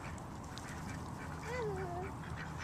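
Ducks being fed outdoors, with one clear quack rising mid-clip above a steady, noisy outdoor background.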